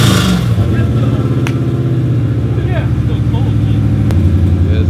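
A car engine revs hard and steadily at close range, a loud continuous roar that rises and holds with the throttle. Short bursts of talk from people nearby break in over it.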